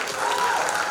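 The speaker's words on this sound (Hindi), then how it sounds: "खुद के लिए तालियां बजाओ." At a Bollywood celebrity walk for an NGO, a gathered audience gives a short, dense burst of clapping at steady volume.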